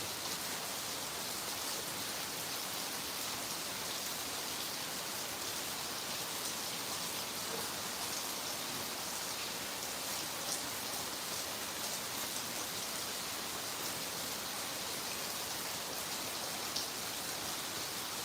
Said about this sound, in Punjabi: ਇਸ ਟਾਈਮ ਬਹੁਤ بارش ਹੈ ਜੀ ਬਹੁਤ